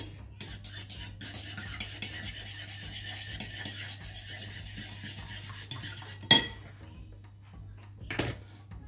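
A spoon scrapes and rubs steadily as pasta sauce mix is stirred in a pan. The rasping runs continuously, close up, broken by two sharp knocks near the end.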